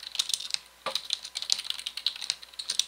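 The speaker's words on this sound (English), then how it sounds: "And then I'll type in AE for short." Fast, light clicks of a computer keyboard being typed on, close and fairly quiet, in short irregular bursts with a brief pause partway through.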